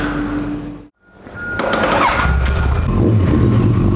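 A powerful motorcycle used for blood bike deliveries roars loudly up close, dropping out for a moment before surging back into a sustained revving growl.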